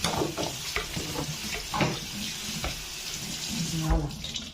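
Fruit, including strawberries, being washed under running tap water in a pan, a steady close hiss of flowing water with soft splashes and handling knocks.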